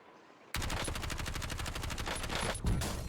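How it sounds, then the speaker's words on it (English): Rapid gunfire bursts from a Call of Duty Warzone match, a dense rattling stream of shots starting abruptly after a brief quiet moment and continuing loud throughout, with a heavier thump near the end. "I got sniped from up top"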